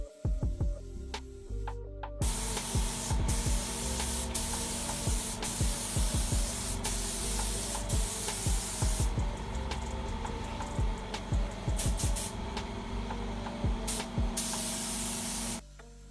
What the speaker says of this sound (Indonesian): kita aplikasi kembali dengan semprotan yang lebih basah